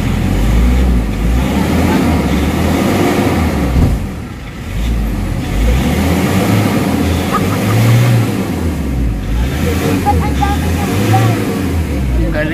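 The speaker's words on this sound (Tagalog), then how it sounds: "pakinggan nyo mabuti yung RPM kung gaano ka low power" A Nissan Urban Premium NV350 van with a low-power, delayed-throttle fault revs its 3.5 engine in a low, labored drone that rises and dips in slow surges, close and loud, under someone talking.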